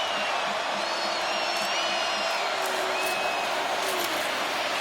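A Florida State home football crowd in a stadium end zone roars steadily during an Alabama game, a dense, sustained wash of cheering and whooping with a few shouted voices rising above the distant din.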